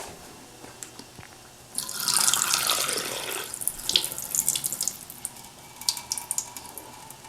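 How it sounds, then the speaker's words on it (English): Just-boiled water is poured off cooked quinoa through a strainer into a sink, a sudden rushing splash that runs for several seconds and then thins into irregular trickles and drips. "I'm just going to strain my water."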